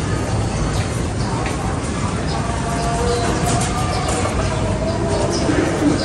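Pigeons in a loft give soft, low coos and a few chirps over a constant noisy background, and people talk throughout.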